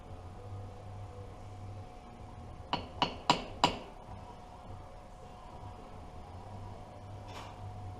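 Four sharp metal hammer smacks land in quick succession on a hydraulic pump part from a CAT loader undergoing a Cummins conversion, close and loud against a quiet shop background, followed by a faint single tap later.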